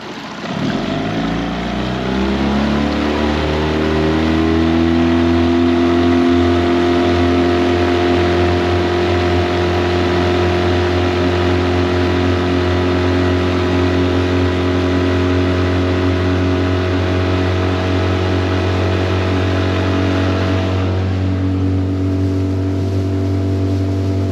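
A Tohatsu 9.8 outboard motor drives a small boat at top speed, a loud, steady engine drone that climbs in pitch as it revs up and then holds a constant high whine.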